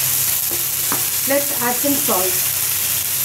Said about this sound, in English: Now we have been frying it for almost 5 minutes.